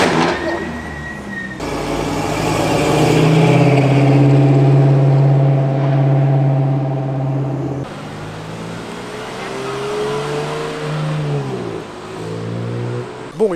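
A car engine revs hard and builds to a loud, sustained roar, then eases off and climbs again. The one sharp exhaust bang cannot be picked out.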